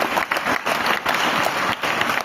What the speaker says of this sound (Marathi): तुमच्या संस्था चालक मुख्याध्यापकासाठी जोरदार टाळ्या वाजवल्या पाहिजे एकदा.